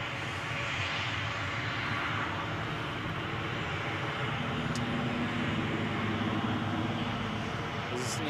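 An airliner departs Newcastle International Airport, its engines a sustained, broad roar at a steady loud level from start to finish, with no voices over it.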